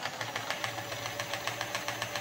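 Model train locomotive held in place with its motor running and wheels spinning, a steady buzzing whir with fast regular ticking pulses throughout, close and moderately loud.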